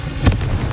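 A Confringo spell blast in Hogwarts Legacy, a single short burst with a low thump over steady game ambience.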